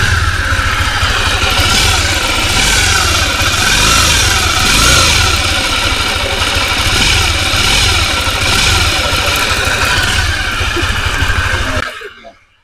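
A motorcycle engine with a loud, deep big-bike tone runs close by for about twelve seconds, rumbling and revving without a break, then cuts off abruptly. The bike has an engine damaged after an overhaul.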